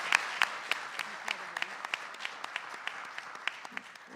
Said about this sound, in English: Please give a round of applause for that.